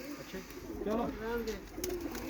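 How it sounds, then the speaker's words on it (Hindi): Pigeons perched in large coops coo in low, throaty rolling calls, close by, with a louder warbling burst in the middle and a voice talking over them at times. "ये आप देखें कितना खूबसूरत ये कैसे बैठे हुए हैं, बड़े प्यारे कबूतर हैं"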